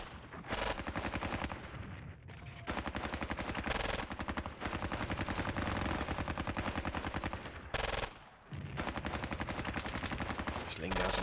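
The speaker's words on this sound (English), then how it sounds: "Just laying down some heavy fire here on my troops" Heavy machine-gun fire rattles in long rapid bursts across a World War II Squad Battles game battle at Ponyri, nearly continuous with brief pauses between volleys and a deeper blast mixed in.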